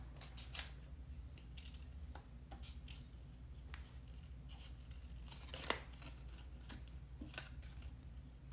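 Quiet scissors snip repeatedly in short, irregular cuts, with soft paper rustling between snips and a low background hum.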